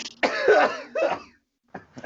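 A single harsh cough bursts out, followed by a second rougher fit and brief noisy vocal sounds, close and loud.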